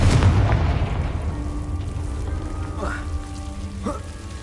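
A Confringo blasting spell is cast in Hogwarts Legacy. A heavy booming burst opens, then fades into a whooshing, crackling tail, with short rising magical swooshes following.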